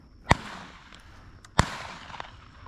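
Two sharp, loud shotgun blasts from a Texas dove hunt, about 1.3 seconds apart, each trailing off in an outdoor echo over a quiet background.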